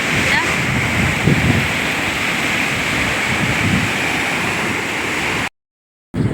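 Sea waves surge beside a glass bridge built out over the sea, a steady loud roar of surf with wind buffeting the microphone, broken by a brief silence near the end.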